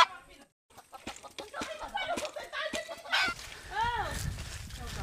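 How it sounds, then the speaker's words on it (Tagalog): A red junglefowl rooster crows a short, clear call partway through, set in rainy mountain forest in Quezon, with people talking nearby before and around it. "Tandang na labuyo."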